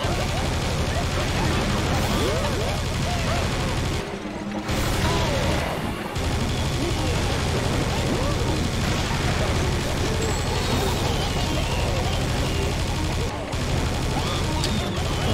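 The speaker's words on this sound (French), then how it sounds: "Tant pis, je tire que d'une seule gatling, Pascal." A gatling gun fires continuously in the shooter Serious Sam 2, a loud, sustained rattling roar that barely pauses across the whole stretch, with explosions and crashes mixed in.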